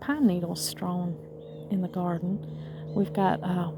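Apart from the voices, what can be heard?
None of the usual background noises is heard.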